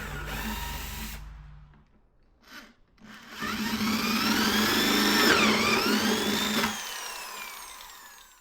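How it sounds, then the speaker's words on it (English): A power drill bores a pilot hole, then a hole saw grinds through a plastic bucket for Schedule 40 PVC pipe: a short whir, a pause with a brief burst, then a long, loud, rising and falling cutting whine. "we're going to drill a pilot hole first, and then use our hole saw to do the actual hole for the Schedule 40 pipe"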